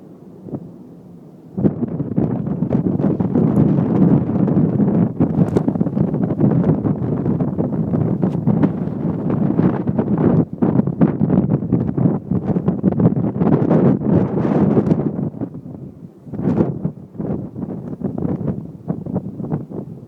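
Strong wind at Niagara Falls buffets and roars across the microphone almost continuously, a heavy rushing noise that eases slightly toward the end.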